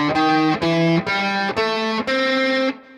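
A major blues scale on a jazz instrument, played as five evenly spaced sustained notes in straight quarter-note rhythm, climbing step by step, loud and close with no talking.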